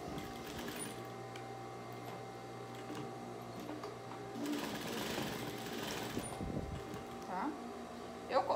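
A home sewing machine stitches rag-doll clothes, whirring steadily at a moderate distance, with someone talking over it.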